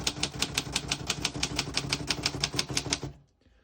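Rapid, steady clatter of keys striking on a 1938 Royal O Model vintage portable typewriter, about twenty crisp strokes in quick rhythm, close and clear, ending abruptly into near silence.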